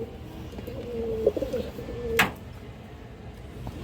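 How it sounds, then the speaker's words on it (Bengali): A green-necked pigeon gives a short, soft, tonal coo close by, over a low steady background broken by one sharp click. "এই যে দেখেন মাসাল্লাহ সবুজ গলা কবুতর খুবই সুন্দর কবুতর"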